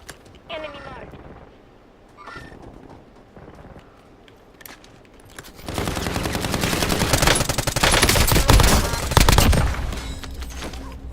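Heavy video game gunfire and automatic bursts erupt partway through, loud and sustained over a continuous battle din, following a quieter stretch with faint game voice callouts.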